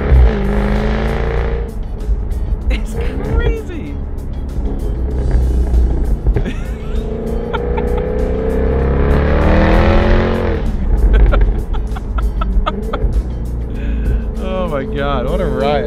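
A Jaguar F-Type sports car engine roars and revs repeatedly, rising and falling in pitch with sharp crackles between gear changes, while people talk and laugh over it.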